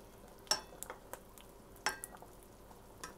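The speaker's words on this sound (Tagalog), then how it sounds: "Haluin natin." Chicken adobo being stirred in a pan, with a couple of sharp utensil scrapes and clinks over a soft, steady sizzle, close and fairly quiet.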